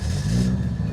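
A Toyota Soarer with a 1JZ engine tuned to 600 hp, started by push button, runs with a deep, rumbling low-pitched engine note, loud and close, over a very short stretch with no voices.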